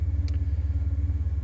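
A 1991 Ford F150 with the 4.9L engine idles at about 700 rpm, a steady, low, rhythmic rumble with an even pulsing beat and a brief faint tick early on.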